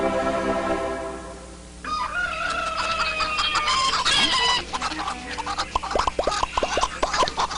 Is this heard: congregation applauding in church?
no